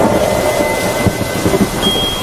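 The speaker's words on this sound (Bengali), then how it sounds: "বাজ পড়ছে আর আওয়াজ হচ্ছে" Thunder rolls through a cartoon rainstorm, a low continuous rumble blended with dense, steady rain hiss, loud and unbroken with no voices.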